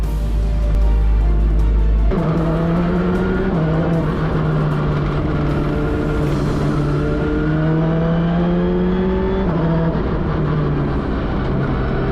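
An Alpine rally car engine roars loud and close, dropping to a lower pitch then revving up and down in repeated surges, with the steady drone held throughout.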